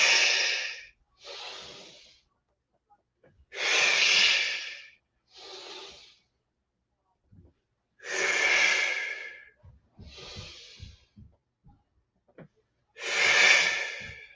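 Deep, forceful breaths during a seated yoga twist, with long noisy exhales wrung out in four strong bursts, shorter inhales between them and quiet pauses, close and clear.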